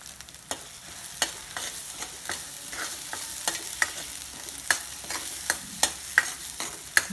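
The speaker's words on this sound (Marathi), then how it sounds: "मसाला चांगला परतून घ्यायचा आपण." Homemade black masala with mutton masala sizzles in a pan while being stirred for a drumstick curry, with steady frying hiss and repeated sharp scrapes of the spoon against the pan at an uneven rhythm, close and fairly quiet, with no talking.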